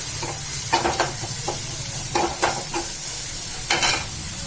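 Curry leaves, onion and garlic sautéing in a pan give a steady sizzle under repeated stirring scrapes and spatula taps, close and fairly loud.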